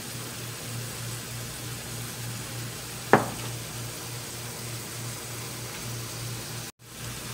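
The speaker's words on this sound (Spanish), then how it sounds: "aquí ya va a empezar a dorarse la carnita" Ground meat seasoned with garlic, onion and salt frying in a pan gives a soft, steady sizzle close by, broken by one sharp clatter and a brief dropout near the end, with no talking.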